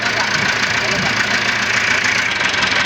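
A tractor engine roars steadily under load as it tries to pull a stuck trolley free, a loud, continuous droning rumble close by with voices talking over it.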